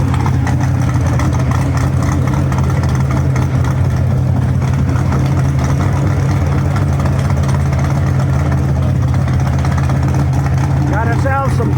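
Two car engines idle together at a car meet, a loud, steady low rumble that runs throughout, with people talking over it.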